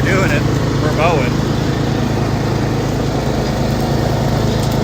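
A Cub Cadet 1027 lawn tractor mows at close range with a steady, continuous engine drone, while a person talks over it.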